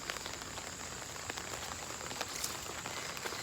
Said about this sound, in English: it's probably raining